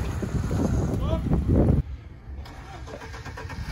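A vehicle engine roars and revs loudly as it starts to pull away, under wind buffeting and a brief voice, then cuts off abruptly to a quieter rumble.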